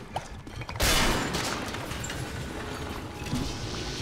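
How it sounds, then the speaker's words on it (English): Slime gun firing in the Ghostbusters video game during a fight with a black slime golem: a sudden loud blast opens a sustained gushing, crackling spray that holds steady with a small surge near the end. "Yep, we'll stick to the slime gun."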